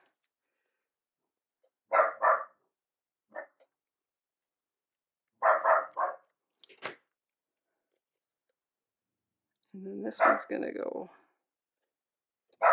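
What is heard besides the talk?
dogs barking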